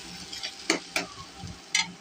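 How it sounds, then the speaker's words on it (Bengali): Taro greens cooked with kalonji (black cumin seeds) are stirred in a frying pan, giving a few brief scraping strokes over a soft background sizzle. "এখন নাড়াচাড়া দিব, হয়ে যাবে।"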